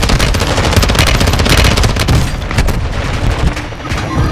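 Rapid automatic gunfire and heavy booms from the video game Call of Duty: Modern Warfare 2 (2022), loud and continuous with dense bursts throughout.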